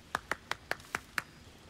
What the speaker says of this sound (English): Adoring applause?